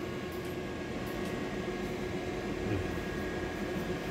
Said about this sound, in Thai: เปิดสวิตช์นะครับ ATS ทำงานนะครับไฟจ่าย เสียง ATS ทำงานนะครับ